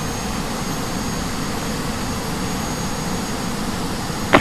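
Turkish Airlines Boeing 737-800 landing on runway 31 left, heard as a steady, moderately loud broadband jet roar from the aircraft, with one brief sharper burst near the end.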